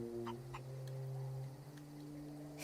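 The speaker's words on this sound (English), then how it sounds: "I love that chicken." A chicken in the video game The Outer Worlds gives a few soft, short clucks over a quiet steady game background hum.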